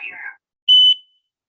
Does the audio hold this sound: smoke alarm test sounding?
yes